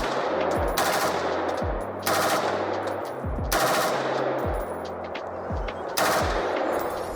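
Loud, close rifle fire from an M16 in a video game SWAT loadout: rapid automatic bursts rattle out in about four separate strings, each trailed by a brief gap, with no talking.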